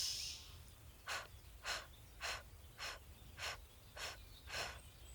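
Seven deep inhaling breaths during a core yoga exercise, each a soft, airy swell of sound repeating at a steady rhythm about every half second apart, close and clear over quiet room tone with no talk.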